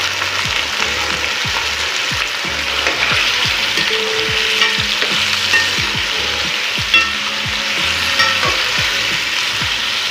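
Pieces of taro root fry in hot oil, giving a loud, steady sizzle with dense crackling and rapid popping and regular scraping from stirring, close up with no talk.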